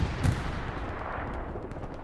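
Artillery fire in the World War II shooter Hell Let Loose: one heavy boom at the start, then a long rumbling, fading tail that leaves low battlefield noise.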